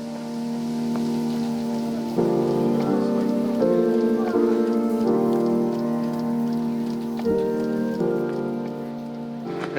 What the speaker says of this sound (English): I think it just started raining again